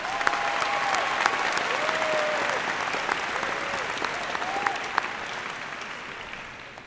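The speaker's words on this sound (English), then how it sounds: "please join me in giving him another round of applause" An audience at a graduation ceremony keeps up sustained, even applause, loud at first before slowly fading, with a few faint whistles and cheers rising above it.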